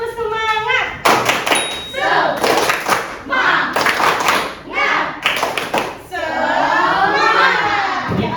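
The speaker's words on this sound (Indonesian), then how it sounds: "Yuk kita tepuk semangat." A class of schoolchildren performs a rhythmic spirit clap cheer, bursts of clapping and shouted chanting in quick patterned rounds, loud and close, with a teacher's voice leading and a long group shout at the end.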